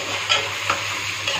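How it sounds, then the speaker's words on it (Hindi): Chicken fries in hot oil with whole garam masala, giving a brief steady sizzle broken by a few soft stirring scrapes, close up with no voices. "चिकन के साथ फ्राई कर देंगे इसको भी, ताकि इसकी खुशबू अच्छे से निकल जाए ऑयल में"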